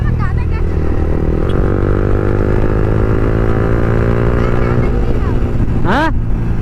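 A motorcycle engine drones steadily and loudly while riding, its pitch shifting a little, with a brief rising whine from a passing vehicle near the end.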